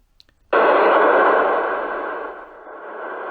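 Steady, loud radio static from an amateur radio receiver during emergency communication tests switches on abruptly and hisses on without a break, easing slightly softer toward the end.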